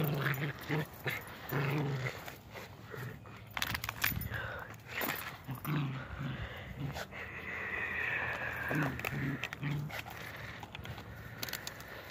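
Two dogs growl and whimper close by in short, uneven bursts, with snorts and rustling between them, fairly quiet overall.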